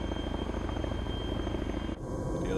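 A Chinook helicopter in the military game Arma 3 drones with a loud, continuous rotor thrum and engine roar, steady and close for a couple of seconds, with a slight shift partway through.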